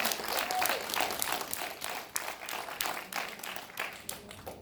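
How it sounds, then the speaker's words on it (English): Audience clapping after a film premiere Q&A introduction of the cast and crew, loud and lively at first with distinct sharp claps standing out, then thinning and tapering off. "Let's give a round of applause for them."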